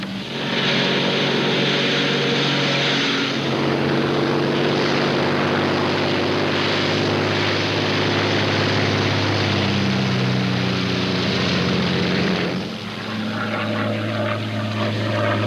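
Royal Air Force propeller plane in flight over Dover, a loud steady engine drone with a throbbing propeller tone that holds for the whole stretch and briefly dips before returning at full strength.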